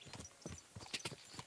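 Horse hooves clip-clopping in the video game Kingdom Come Deliverance 2, a steady, moderately close rhythm of hoofbeats at riding pace with no voices over it.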